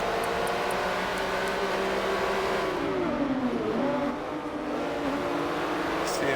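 Porsche Cayman GT4 Cup race cars in a Forza game at Watkins Glen, a continuous loud engine drone with shifting pitch as several cars run bunched together, one note dipping and rising around the middle.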